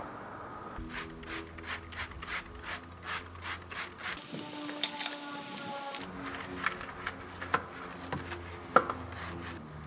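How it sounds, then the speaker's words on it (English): A brush scrubs a car wheel and calipers in rapid rhythmic strokes, a bristly rubbing swish repeating close up, pausing briefly before resuming with sharper scrapes. "The brush is nice to use on the wheel because then you get all the areas you can't reach with your fingers."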